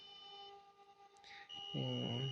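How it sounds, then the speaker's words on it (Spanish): A workspace temperature alarm, triggered when the room goes above 28 degrees, gives off a steady, high electronic tone that drops out briefly and then returns. A warbling tonal sound rises near the end over faint background hum. "se enciende la alarma, que nos indica que ya no estamos en un espacio con condiciones óptimas para el trabajo"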